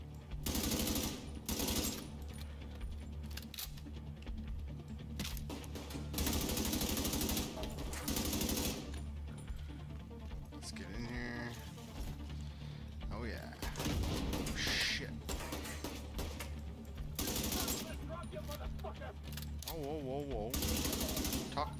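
Machine gun fire in The Division 2, heard as repeated bursts of rapid shots mixed with other game effects over about twenty seconds, with someone talking now and then between them.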